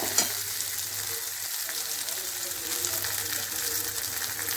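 Curry leaves and coriander powder frying in a pan for a village-style mutton gravy, a steady dense sizzle with faint stirring, moderately quiet and without clear talk.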